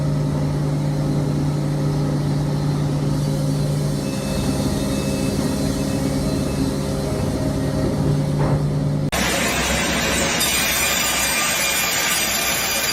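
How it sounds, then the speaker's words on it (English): A giant sawmill blade rips lengthwise through a log with a steady, loud mechanical drone, then the pitch suddenly shifts to a rougher, brighter grinding roar as the cut continues, loud and close throughout. "The long saw blade, sharp and sturdy, spins powerfully on its solid mount. Each tooth on the blade acts like a tiny knife, slicing precisely along the length of the log"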